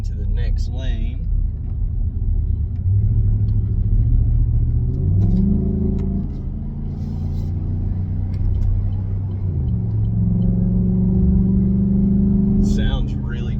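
A 2018 Chevrolet Silverado 1500 LT Z71 pickup drives in traffic, its engine a steady low drone that rises and shifts through gears, heard from inside the cab with someone talking over it.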